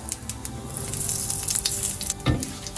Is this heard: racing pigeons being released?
no